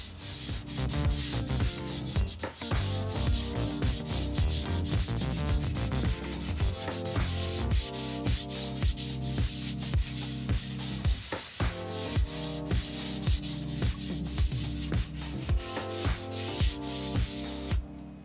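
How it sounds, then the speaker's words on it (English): Steady, rhythmic rubbing of fine sandpaper on oak stair wood, continuous back-and-forth strokes up close with no talking. "I'm going to lightly sand it"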